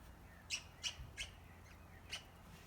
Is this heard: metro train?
no